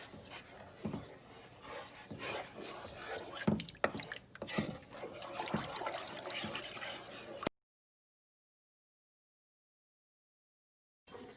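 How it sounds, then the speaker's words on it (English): Hot water and sauce are poured over mini stuffed eggplants, giving irregular splashing and trickling for about seven seconds before the sound cuts to silence, with a brief return at the very end. "Mix all this together, and I'm gonna pour all this on top of the eggplants."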